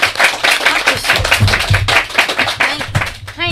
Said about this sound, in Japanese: 今年も 拍手